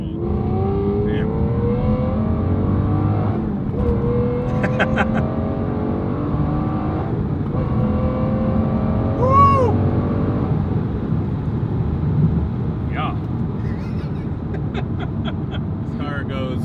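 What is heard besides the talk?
Aston Martin car accelerating, revving engine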